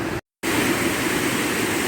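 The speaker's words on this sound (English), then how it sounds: "facing a 20-foot or so waterfall" Steady, loud rushing roar of a roughly 20-foot waterfall in a gorge on the River Sprint in the Lake District, heard close up, broken by one brief moment of silence.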